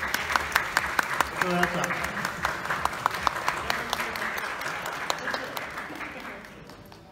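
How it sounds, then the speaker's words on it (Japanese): Audience applause at the NPCJ Japan Classic 2020 bodybuilding contest, a sustained crowd clapping with sharp individual claps standing out, fading toward the end, while a voice speaks briefly over it. "大きな拍手をお送りください"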